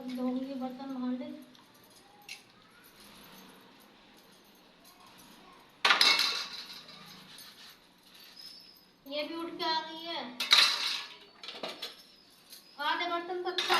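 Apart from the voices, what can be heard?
washing pots and dishes by hand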